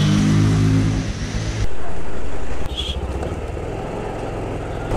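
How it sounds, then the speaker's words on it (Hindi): A motorcycle engine is cold-started on a hill road in Sikkim, a loud low-pitched running engine that drops off suddenly, then a quieter idle with some surrounding road noise. "बाइक को पहले देना पड़ेगा कोल्ड स्टार्ट।"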